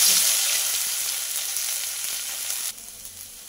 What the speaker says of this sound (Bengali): তো সজনে পাতাগুলো তেলের মধ্যে দিয়ে কিছুক্ষণ পাতাটা তেলের মধ্যে ভেজে নেব।